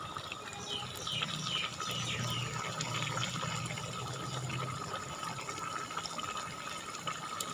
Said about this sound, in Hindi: अब इसमें घी डाल देंगे।